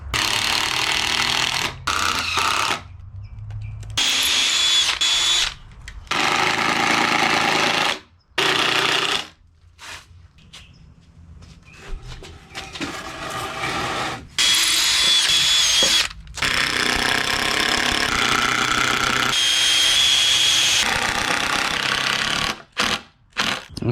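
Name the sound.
power drill driving screws into wooden firewood rack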